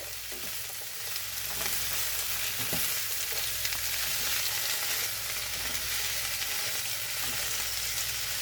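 Pork and zucchini hoisin stir fry sizzling loudly in a pan, a dense continuous frying hiss with occasional stirring scrapes, close and without talk.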